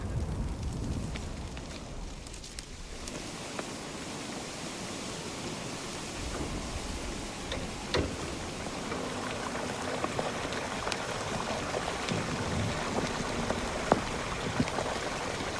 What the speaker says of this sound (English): we sprayed water on the coals and we got all this really incredible crackling and gurgling and all sorts of lava type sounds